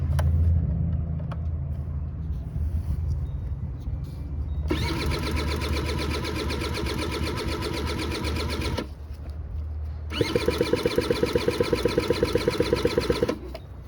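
A rusty 1985 Honda Aero 50 scooter with a fresh battery and clean carburetor cranks on its electric starter in two long, buzzing whirring bursts, the second with a rapid rhythmic chatter, without catching, close up.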